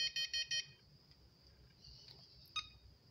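A VTech desk phone's buttons give four quick electronic beeps in a rapid row, then a softer tone and one more short beep, close and fairly quiet in a still room.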